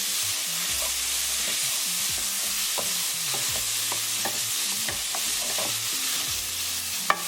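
Onions and tomatoes stirred together in a pan for bison keema, with a soft sizzle beneath repeated close scrapes and clicks of a spoon against the pan, and no voices.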